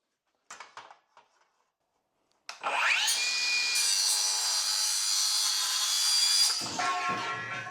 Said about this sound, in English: I'll be using the Diablo Steel Demon blade that fits perfectly in my regular circular saw.